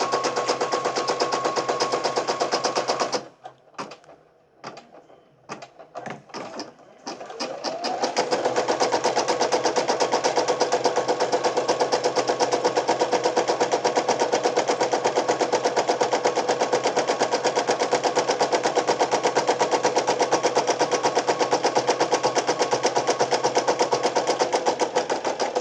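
Brother PE800 embroidery machine stitching out a name, a loud continuous rapid mechanical rattle and hum that breaks into brief stuttering stops before resuming steadily, close up with no speech.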